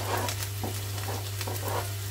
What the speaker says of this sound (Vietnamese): Cần mấy cái này là mình xào chung hết. Tất cả đều xào chung